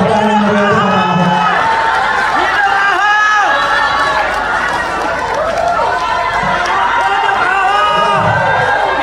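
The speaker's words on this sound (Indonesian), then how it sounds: "Tepuk tangan yang meriah untuk Bapak Ahok." A loud crowd at a PDI Perjuangan political gathering in Jakarta cheers and applauds for Ahok, a steady wall of clapping, whoops and babble filling the space throughout.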